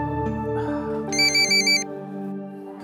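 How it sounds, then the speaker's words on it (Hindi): A phone ringtone plays loud and close, a bright synthesized melody with a short burst of high repeated tones partway through, heard alone without any talk. "pick up the phone"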